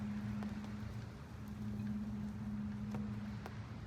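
Steady rain patters on an umbrella held outdoors near a boat on the water, a continuous soft hiss with scattered drop taps over a low steady hum.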